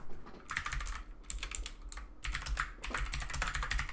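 Keystrokes on a computer keyboard as a blog post title is entered: steady, fairly quiet runs of rapid clicking broken by brief pauses, with no one speaking.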